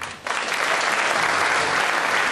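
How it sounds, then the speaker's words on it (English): Audience applause for a card magic mind-reading act: after a brief quiet moment, a crowd breaks into sustained, dense clapping that stays loud and steady to the end. "let's give Sharon a huge round of applause"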